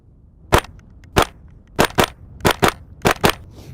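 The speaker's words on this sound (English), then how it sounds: "shooting." KRISS Vector Gen 2 firing nine sharp shots, singles and quick doubles spaced through the clip, loud and close with short decays; no talking.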